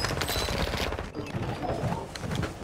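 Rapid bursts of automatic gunfire in a video game, dense and loud, crackling over each other for a few seconds with no speech.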